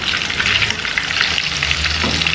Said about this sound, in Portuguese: coloquei aqui para fritar